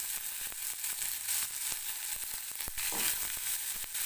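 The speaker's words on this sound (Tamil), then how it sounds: "போட்டு வதக்கிக்கலாம் வெங்காயமும்" Onion sautés in a little oil in a pan for a chutney, a steady bright sizzle with occasional scrapes and stirring knocks, close by and alone.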